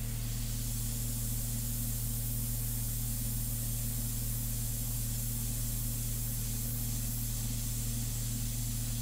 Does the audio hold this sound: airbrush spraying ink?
yes